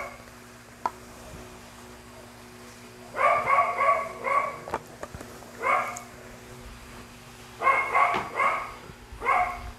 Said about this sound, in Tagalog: Naririnig niyo yung aso? Kanina pa ang ingay.